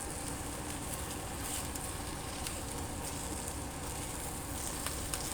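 Onions frying in a pan with a soft, steady sizzle and patter while being stirred, faint and continuous with no talk.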